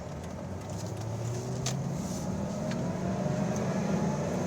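A 2003 Ford Mustang Cobra engine drones steadily in first gear, heard from inside the car as a low, continuous hum whose pitch rises slightly as it pulls, with a few faint clicks over it.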